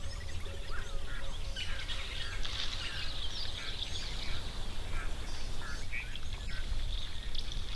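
Birds call and squabble at a waterhole, a busy overlapping chorus of chirps, quacking notes and scratchy cries over steady outdoor ambience, with faint wing flaps mixed in.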